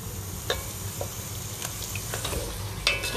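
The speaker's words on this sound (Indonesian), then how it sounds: "Sekarang ni kita kena tumis bahan kisar ni sehingga naik minyak lah." A ground spice paste for chilli chicken sautés in oil, making a continuous quiet sizzle broken by light stirring scrapes and small clinks, with no voices.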